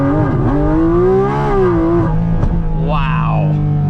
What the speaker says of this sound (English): this car is completely stock, titanium exhaust from the factory, and it sounds like that